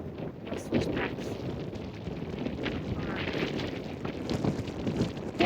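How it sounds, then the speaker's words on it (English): Continuous loud wind buffeting the microphone near the top of a mountain climb, rumbling and gusting throughout with no pause. "Windy,"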